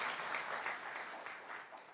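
Faint, dense applause from a church congregation at a Good Friday service, a brief wash of clapping with no voices over it.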